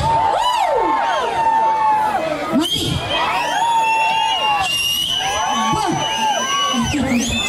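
A crowd of boys at an event in Nellore cheers and shouts loudly and without a break, with shrill whoops and whistle-like cries rising above the dense, steady din.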